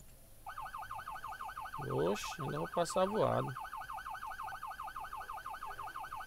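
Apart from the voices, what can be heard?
vehicle siren in a video game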